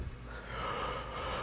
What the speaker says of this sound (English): Oh, sorry, I had to yawn.